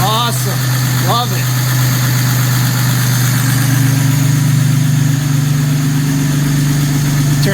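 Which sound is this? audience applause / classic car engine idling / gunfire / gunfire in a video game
classic car engine idling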